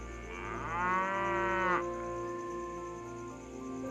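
Cartoon bullocks give a long, loud moo with a rising then steady tone lasting over a second, over a continuous background of music or ambience, with no talking.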